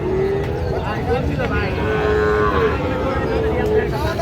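Young Sahiwal bull calves moo repeatedly at a busy cattle market in Raniganj, their drawn-out calls rising over a constant crowd murmur with faint voices in the background.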